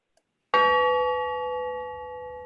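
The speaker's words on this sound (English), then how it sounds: "we're going to have the bell rung virtually" A single bell struck once to open a Rotary Club meeting, ringing loud and clear with a sharp attack and a long, slowly fading tone that sustains to the end.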